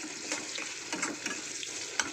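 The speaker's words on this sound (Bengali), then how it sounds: "পেঁয়াজটা একটু ভাজা হোক।" Onion frying in a pan gives a quiet, steady sizzle, with a few brief clinks and scrapes from stirring scattered through it.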